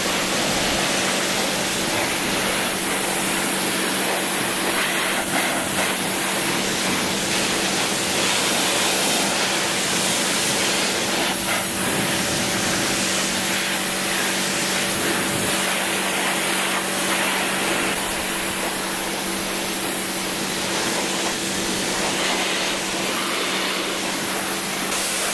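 A Parkside PHDP 180 A1 pressure washer sprays a heavily soiled vegetable crate on a pavement, making a loud, continuous hissing jet of water that holds steady throughout with small shifts in tone as the spray moves.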